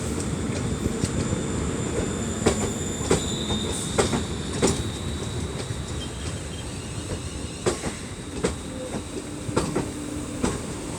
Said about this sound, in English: Another very quiet train.